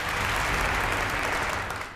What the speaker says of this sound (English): can we have a round of applause to welcome him?